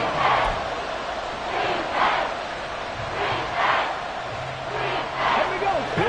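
A football stadium crowd on its feet roars and cheers in swelling waves, loud and continuous, with a commentator talking over the noise late in a close game.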